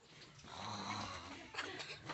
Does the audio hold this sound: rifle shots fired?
no